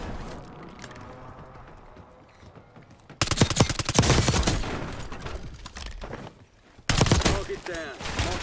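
Bursts of SMG gunfire in a Call of Duty match on the Area 99 map come in two loud volleys, each followed by rapid shots and clatter, after a quieter stretch of softer game sounds.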